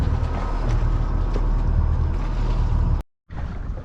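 A sailboat under sail with its engine switched off, heading out along the coast near Cres, gives a steady, loud rush of wind and water that fills the clip, cutting out abruptly for a moment near the end before resuming.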